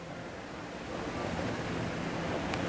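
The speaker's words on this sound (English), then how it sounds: "you can hear the water, the rushing of the water and everything" Water rushes continuously from a fountain beside the lake at Disney's Coronado Springs Resort at night, a steady broad hiss with no speech and only a faint click near the end.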